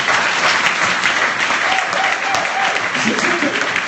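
A church congregation applauding, dense sustained clapping from a large crowd filling the whole stretch, loud and even, with voices mixed in.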